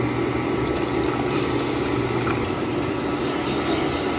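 A quarter cup of water goes into a saucepan of sugar to start a syrup for iced coffee, heard as a steady, close watery wash with faint splashy detail throughout, and no talking.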